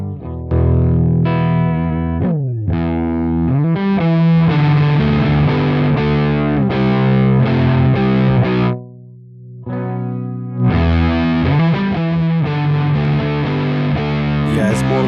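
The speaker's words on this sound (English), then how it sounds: "Yeah, it's more like the realm of fuzz." A fuzzy, heavily distorted electric guitar through a fuzz distortion plugin feeding an amp emulation plays a run of notes and chords, briefly dropping to a quieter sustained note before resuming loudly.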